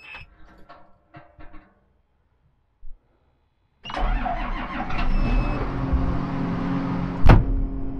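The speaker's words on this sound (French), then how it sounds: "on démarre et on va reculer juste à l'air de lavage" A tractor engine at a farm workshop: soft clicks and clunks, then the engine cranks and catches about halfway through, settling into a loud, steady rumbling idle with one sharp knock near the end.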